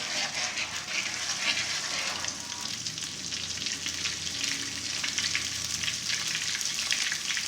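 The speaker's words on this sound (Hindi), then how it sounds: "ये पिसा हुआ अदरक है 1 टीस्पून मेरे पास। इसको हल्के हल्के भून लें, ब्राउन नहीं करना।" Ground ginger fries gently in a karahi for a chicken karahi, giving a continuous, even, moderately quiet sizzle with a few light crackles and no voices.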